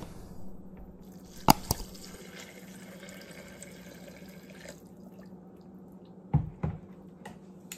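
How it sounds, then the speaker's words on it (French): Broth is poured into a pot while chard soup is being made, a thin, quiet liquid trickle running for a few seconds, broken by a few sharp clinks and knocks. "maintenant, je vais ajouter un peu de bouillon"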